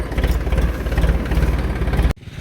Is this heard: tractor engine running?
yes